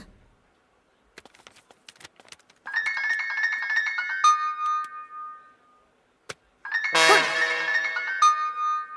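A mobile phone rings with a bright electronic melody in two separate bursts, loud and close, with short clicks and a gap between them.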